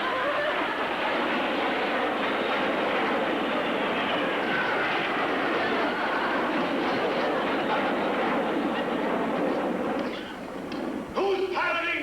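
A T-bird jet trainer roars over an airfield, a loud, sustained broadband jet rush that holds steady for several seconds and then fades, followed by a brief clatter.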